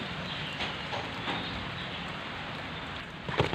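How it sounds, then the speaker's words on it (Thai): Light drizzling rain falling outdoors on plants, a soft continuous patter with scattered drops, steady and fairly faint, with no talking. "ตอนนี้ฝนกำลังตกพรำๆน้อยๆนะเนี่ย"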